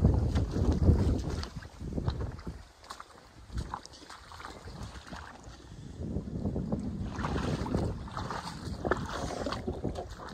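A small boat motor hums steadily over water, with gusts of wind buffeting the microphone throughout.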